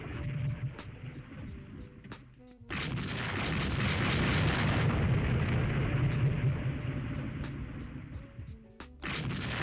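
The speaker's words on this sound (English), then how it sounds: "the Austrians just unleashed a massive torpedo volley" A naval battle in the video game Rule the Waves 3, with a torpedo volley and exploding shells around battleships and battlecruisers. A loud, sustained rumble of blasts and booms cuts in abruptly and runs for several seconds.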